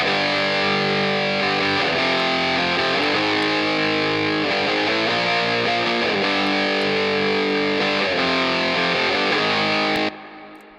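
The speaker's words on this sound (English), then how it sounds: "So this is the guitars with the whole processing at the beginning with the intro sound." Heavily distorted electric guitar playing the intro of a song in the mix, thick sustained chords, loud and dense, cutting off abruptly near the end.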